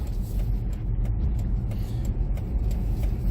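A 2005 Volvo S60 2.0 T SE pulling away, heard from inside as a low, steady engine and road rumble with faint mechanical rattles, no talking.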